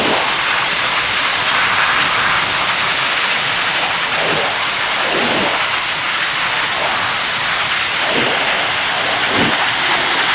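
Swollen Courtallam waterfalls in Tenkasi, flooding after continuous rain, give off a steady, loud, broadband roar of rushing water that holds unbroken throughout, with no voices.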